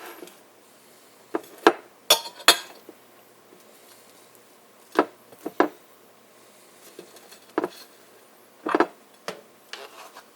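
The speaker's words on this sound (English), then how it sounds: "First you spread this soft cheese onto the egg bread." Knife spreading garlic and fine herb soft cheese onto egg bread, heard as a scattered series of short, close clicks and scrapes of the blade against the bread and a plate, with quiet gaps between strokes.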